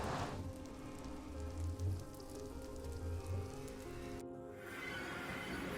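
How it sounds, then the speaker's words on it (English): Nighttime rain in the Minecraft video game, a steady soft hiss of falling drops that continues evenly at low volume, with no talking. "of course it's night and raining"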